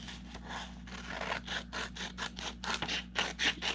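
Scissors cut up the side of a sheet of paper for a paper bow, a series of close, rhythmic snipping and rasping strokes, each a short burst, with no talk.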